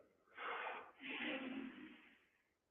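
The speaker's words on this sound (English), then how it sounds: "So I breathe back in and then hold it for 15." A person draws in a long, loud breath after holding it, a rushing inhale in two surges over about two seconds that then fades away.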